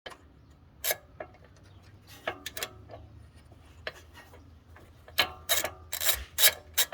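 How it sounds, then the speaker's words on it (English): A ratchet turns a small 5mm Allen bolt on a 2016 Audi A7 Quattro during a coilover install, irregular bursts of sharp clicks that grow louder and quicker toward the end, close up with no voices. "you have to remove this little small 5mm Allen bolt"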